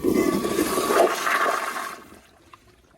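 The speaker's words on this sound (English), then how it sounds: "It may struggle because of the short flush" A restored 2016 Toto CT705 toilet gives a short flush: a loud, close rush of water for about two seconds that quickly fades to a quiet trickle.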